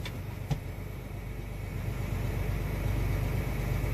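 A combine harvester runs through a weedy corn field, its heavy engine a steady low drone that builds slightly in loudness, with a brief knock near the start.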